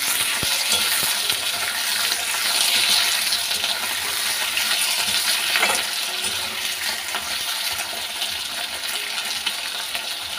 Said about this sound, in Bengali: সব আলুগুলো আমি দিয়ে দিয়েছি এর মধ্যে। চলো এবারে নাড়াচাড়া করে দিই।